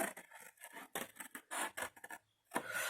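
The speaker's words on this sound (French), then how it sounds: "vous flanquez des coups de ciseaux" Scissors snip paper notches for a Harry Potter mini album, a quick irregular run of close crisp cuts and rustles separated by short pauses.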